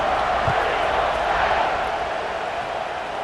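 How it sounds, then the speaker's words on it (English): Football stadium crowd at an Arizona State vs Auburn game buzzing after a score, a dense, steady roar of many voices filling the space, loud and continuous. "this crowd is buzzing after that last score"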